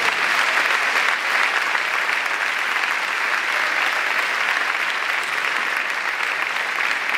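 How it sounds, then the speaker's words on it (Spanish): An audience at a 2012 Saturday-night youth retreat applauds steadily, a dense, continuous wash of clapping at even loudness throughout with no voices rising above it. "¿Cómo no le vamos a dar un aplauso al Señor?"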